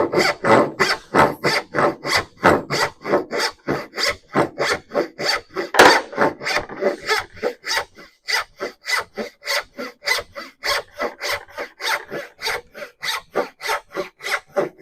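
Steady, rhythmic hand sawing through wood for dovetail joints, dozens of quick back-and-forth rasping strokes at a brisk even pace, close and clear with no talking.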